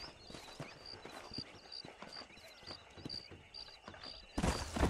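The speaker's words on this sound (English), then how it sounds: "These are fine horses." Horse hooves clip-clop at a steady walking rhythm in the Red Dead Redemption video game, set in the New Austin region, with even, moderately close beats under a faint high-pitched background tone and a louder burst at the end.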